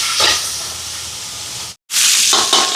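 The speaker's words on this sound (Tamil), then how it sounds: "இந்த வெங்காயம் எல்லாம் வதங்கட்டும்" Onions with curry leaves and green chillies sautéing in hot oil for a large charity chicken meal, giving a loud, steady broadband hiss that cuts out briefly near the end, then resumes just as strong.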